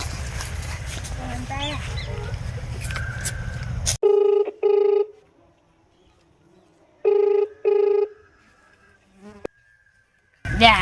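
A telephone rings in distinct electronic bursts, two pairs of loud tones separated by near silence, after a stretch of busy outdoor noise at a farm field.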